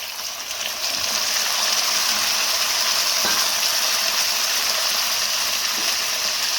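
Chopped onions and tomatoes fry in a pan, a steady, loud sizzling hiss that runs throughout with faint scraping clicks from stirring.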